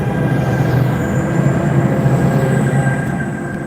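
Steady rumble of an exo commuter train riding toward Cedar Park Station, a loud continuous rolling roar with a faint high whine above it and no talk.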